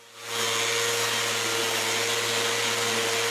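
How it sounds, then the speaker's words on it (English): An orbital sander gives a steady, continuous motor whine with a broadband hiss while sanding wood for a door frame, running unbroken and fairly close after a brief quiet start. "The final sanding is done with the orbital sander."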